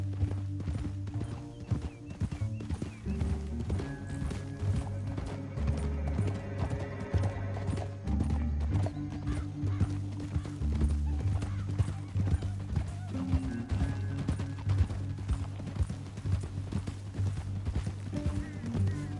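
Horses gallop in the Red Dead Redemption 2 video game: a steady clip-clop of hooves runs throughout under a music score, with occasional whinnies and characters talking over the riding.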